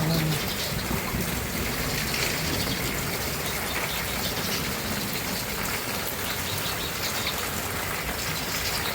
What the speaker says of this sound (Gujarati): નદીની પેટ પાણી આવે છે.